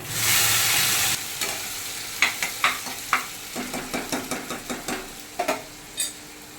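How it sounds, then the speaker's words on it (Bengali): Chopped onion drops into hot oil with bay leaf and cumin, starting with a loud burst of sizzling that then settles, followed by a rapid series of spatula scrapes and taps against the pan, close and clear with no talk. "জিরে হয়ে গেছে, পেঁয়াজ কুচিটা দিয়ে দিচ্ছি"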